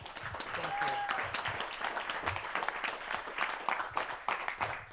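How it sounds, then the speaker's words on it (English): A crowd at a campaign town hall in Grinnell, Iowa claps steadily in a dense, fairly loud wash of applause, with voices mixed in underneath. "give John a round of applause"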